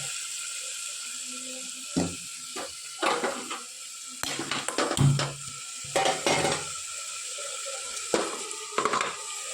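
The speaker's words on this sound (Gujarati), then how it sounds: "હવે અંદર ચોખા નાખી દઈએ." Rice is added to a pot for Gujarati vaghareli khichdi. Scattered close clatters and stirring scrapes sound over a steady low hiss, in short separate bursts.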